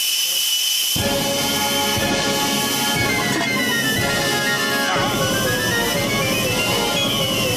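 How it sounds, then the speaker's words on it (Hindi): A pressure cooker boiling potatoes in a cartoon lets out a loud, sustained steam whistle and hiss that bursts in after a second of quiet and keeps going steadily. "2, 4, 6, 10, 12, 20 सीटियाँ और आने दे।"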